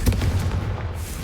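A loud, close explosion from the Confringo spell in the video game Hogwarts Legacy, a booming blast whose rumble fills the whole moment and slowly trails off without any speech.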